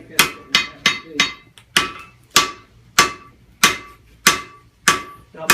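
Heavy hammer blows ring out on hot steel being forged into a gun barrel by a blacksmith, about a dozen sharp metallic strikes in a steady, fairly quick rhythm, each with a bright ringing decay, close and loud.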